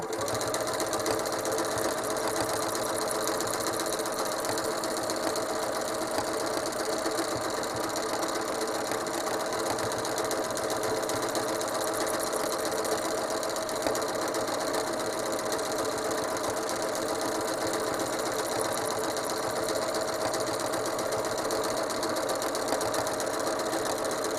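A sewing machine runs continuously, quilting a spiral stencil pattern on a holiday quilt, its needle chattering in a rapid, even mechanical rhythm that stays close and steady throughout.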